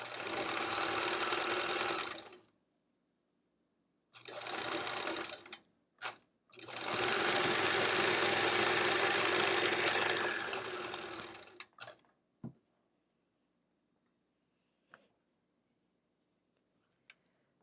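Quilt strips run through a sewing machine in steady stitching bursts, a short burst, a pause, another short burst, then a long run, followed by soft clicks and handling noises.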